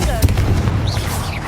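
Fiery Confringo spell explosions in Hogwarts Legacy come as a quick series of loud, close booms and bursts over a constant low rumble.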